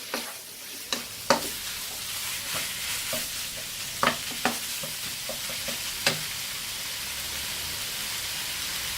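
Chicken spring roll filling frying in a pan with a constant hissing sizzle, while a spoon scrapes and taps against the pan in irregular stirring strokes.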